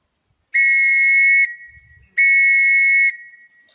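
A whistle blows the Morse letter M as two long, loud, steady blasts separated by a short pause, sounding clear and close with no voices.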